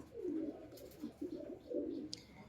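Pigeons coo in low, rolling phrases close by, three or four soft throaty bursts with brief pauses between them, with no talking over them.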